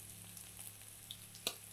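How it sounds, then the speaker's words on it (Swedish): Diced pyttipanna fries in a hot pan, giving a low steady sizzle with scattered small crackles and one sharper pop near the end, close and quiet with no voices. "Nu kan man ju höra också på ljudet av stekningen att det börjar knastra lite grann."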